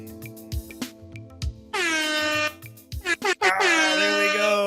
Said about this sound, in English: I have to retire my air horn thing